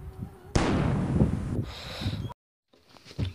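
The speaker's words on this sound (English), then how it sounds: "I heard three cannons," A loud cannon-like boom with a long rumbling tail, fired in a Hunger Games-style arena, followed by a sudden cut to quiet and then faint background noise.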